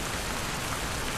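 Steady dense rain falling without pause, a uniform broadband hiss that fills the whole stretch with no voices.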